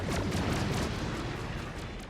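Battleship turrets in World of Warships fire in a heavy, continuous rumble of close gunfire and booming shots, loud and dense throughout.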